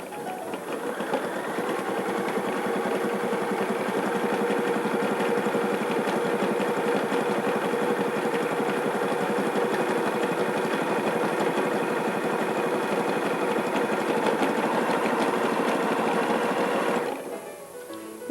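A sewing machine stitches a monogram at a 3.5 stitch width, running steadily and loudly up close with a continuous whirring hum for most of the stretch before stopping near the end.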